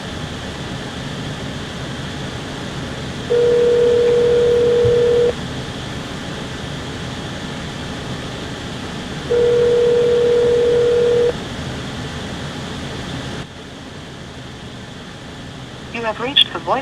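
Two long, steady ringback tones sound on a phone line, separated by a pause, over a constant low background hum; faint clicks follow.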